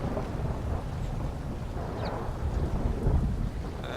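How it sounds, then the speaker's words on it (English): Steady heavy rain falls with deep rolling thunder rumbling underneath, loud and continuous throughout. "I'll just leave you guys with a little bit of rain."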